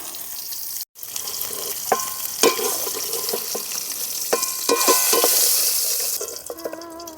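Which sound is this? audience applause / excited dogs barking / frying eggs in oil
frying eggs in oil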